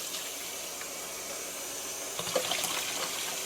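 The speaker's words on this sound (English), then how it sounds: "I will run water through all of this, get all the chunks out." Tap water runs steadily into a kitchen sink over juicer parts, a constant close hiss and splash with a brief louder spattering near the end, with no voices.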